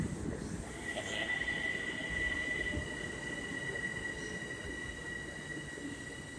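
A Long Island Rail Road M7 commuter train rolls past at Bellmore station, its wheels rumbling continuously with a sustained high metallic squeal over the top, moderately close and steady throughout.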